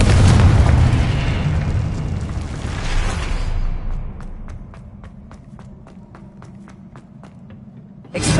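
A Confringo blasting spell in Hogwarts Legacy erupts in a loud, broad explosive burst that rumbles and fades over several seconds, followed by quieter rhythmic footsteps-like taps and a second sharp blast at the end.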